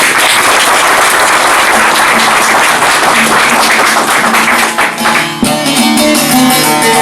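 Loud, close applause from the audience at a Yozgat association gathering in Tekirdağ featuring a folk minstrel, sustained clapping for about five seconds, then thinning as musical tones come in near the end.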